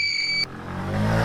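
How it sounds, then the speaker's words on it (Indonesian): In a Roblox video game, a car speeds away fast. A short electronic tone cuts off, then a broad engine roar swells and rises steadily as the car accelerates. "Mobil panti sudah pergi melaju cepat menjauh."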